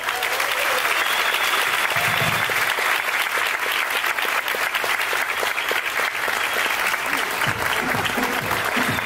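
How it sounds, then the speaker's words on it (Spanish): An audience breaks into loud, sustained applause welcoming Mijaíl Milei onto the stage at a company event, a dense steady clapping that fills the whole stretch with no gaps. "recibamos con fuertes palmas al 10 estrellas de la compañía"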